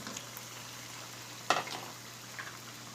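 Chicken karahi frying in a pan just after tomatoes go in, a faint, steady sizzle with one sharper spatula scrape or stir in the middle and a low hum underneath.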